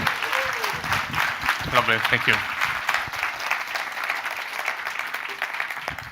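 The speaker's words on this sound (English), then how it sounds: "a huge warm welcoming applause" Warm audience applause at a happiness summit welcomes a speaker to the stage, a steady dense wash of clapping that carries through the whole stretch while someone briefly speaks over it.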